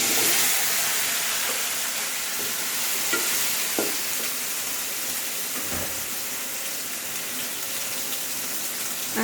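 Okra frying in a pan with turmeric, a steady sizzle under intermittent scraping and stirring clatters, close and fairly loud throughout, no talking.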